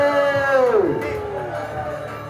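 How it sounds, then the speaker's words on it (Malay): Crowd cheering and applauding at a live full-contact match event, a loud burst with a falling whoop or tone at the start that settles into sustained crowd noise. "Berikan tepukan kepada UFA."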